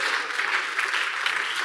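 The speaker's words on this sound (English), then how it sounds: "If you're going to clap, clap very well." A church congregation claps during a sermon at a men's service. The applause is dense and continuous, a short, full burst with no gaps.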